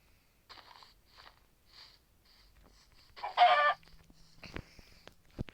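A chicken in a video game clucks in scattered short bursts, followed by one louder, longer squawk, then sharp clicks and thuds against a quiet background.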